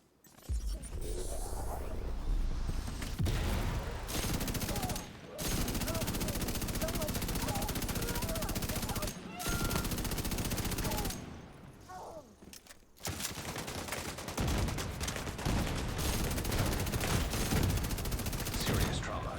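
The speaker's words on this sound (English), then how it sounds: "Look at all these explosions." Rapid gunfire and explosions in The Division 2 video game, long stretches of dense, loud automatic fire and blasts broken by brief gaps, with a player talking over the action.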